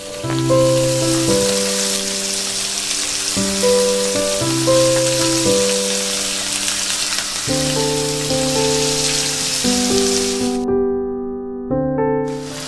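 Diced carrot and onion frying in a pan for a white sauce pasta, a steady soft sizzle running beneath louder background music.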